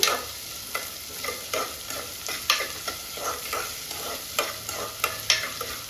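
Curry leaves sizzle and crackle in a pan of radish sambar, with a steady frying hiss broken by repeated scraping stirs, close and fairly quiet, with no voices.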